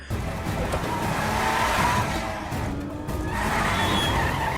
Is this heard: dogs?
no